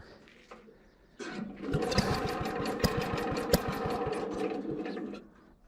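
A homemade tractor-style motorcycle engine cranks with a brief sputter, then catches and runs at a steady, rapid putter for several seconds before cutting off, loud and close with no talking.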